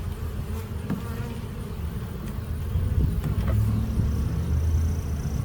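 Honey bees in a beehive super hum steadily, building out wax comb, a close, dense, continuous buzz that grows slightly louder midway.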